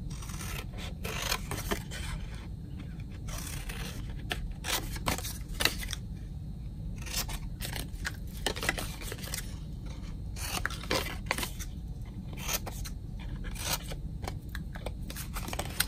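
Scissors trim fabric for a small tote bag with repeated crisp snips and rustling cuts, close up and fairly even throughout, with no one talking.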